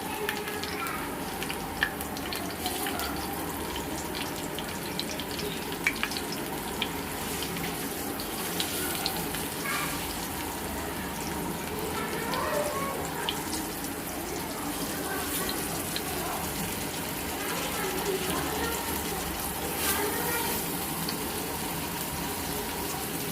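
Bangda (mackerel) masala with curry leaves fries in hot oil in a pan, a steady, continuous sizzling hiss that runs evenly for over twenty seconds.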